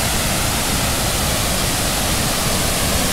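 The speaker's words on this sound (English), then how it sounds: "This ain't even the main waterfall." A waterfall on a mountain at Mon Jam in Thailand rushes with a steady, loud, broadband roar, constant and close with no other sounds standing out.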